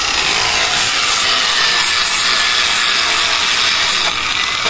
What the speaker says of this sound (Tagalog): lilihain niya ni Kuya Buboy, tatanggalin niya yung kulay